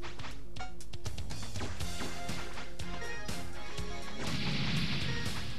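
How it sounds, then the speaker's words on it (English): Explosions crash and thwack during a boss fight in Megaman X3, a dense run of sharp game blasts layered over loud background music, ending in a noisy burst. "I hate how random those explosions are."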